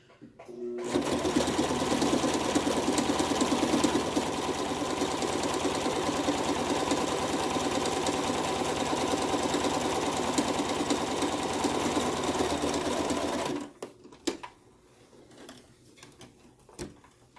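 A sewing machine runs steadily, stitching a seam across the curved front of a fabric face mask, loud and continuous for about thirteen seconds before stopping, followed by a few quiet handling clicks.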